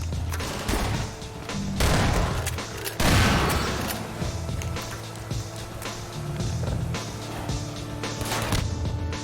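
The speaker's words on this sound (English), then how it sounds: "that was an exploding barrel, wasn't it?" Loud blasts and heavy crashing from a barrel explosion and combat in Half-Life 2: Episode 2, with several strong bursts, the biggest near the three-second mark, over a steady rumbling game background.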